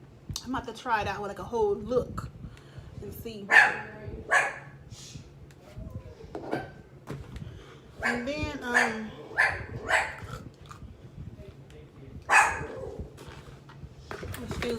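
A female dog barks in loud, sharp bursts, several barks scattered across the clip with some yips, close by and mixed in with someone talking indoors.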